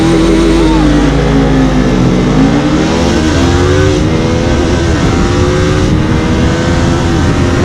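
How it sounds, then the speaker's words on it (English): A KTM Duke 390 and a Kawasaki Ninja 400 accelerate hard side by side in a drag race, loud continuous engine roar with rising and shifting revs, steady and close throughout. "the Ninja, once it goes to the higher RPM, the power really kicks in and it is faster"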